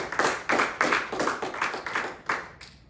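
A small church congregation claps during a sermon, about ten distinct, fairly close hand claps in a loose rhythm that thin out and stop.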